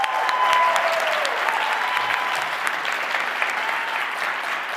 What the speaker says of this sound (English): can we make sure to give a warm round of applause as we bring in our final speaker for the first day